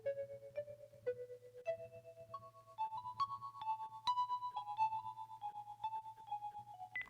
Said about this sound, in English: my cell phone was ringing